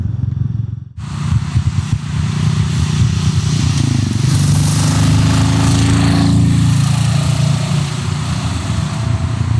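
A Royal Enfield Meteor 350 Aurora motorcycle being ridden: the single-cylinder engine starts up after a brief pause, then settles into a loud, close, steady thumping drone with wind noise. Nobody talks.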